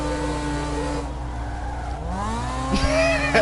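A car drifting in the racing game CarX, engine droning steadily while tires squeal and screech in rising bursts toward the end, loud and continuous.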